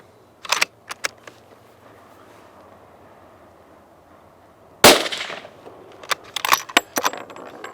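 Suppressed Steyr Breeze .308 rifle firing Remington 165 grain AccuTip rounds outdoors, one sharp muffled report partway through among scattered clicks and knocks of handling, fairly close, with no talking.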